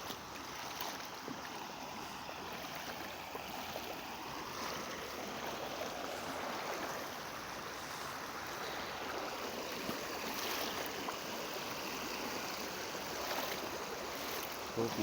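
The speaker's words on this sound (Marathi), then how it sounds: "वाहतं पाणी एकदम साफ." Clear stream water flows through a forest, giving a steady, unbroken rushing wash at moderate level with no voices.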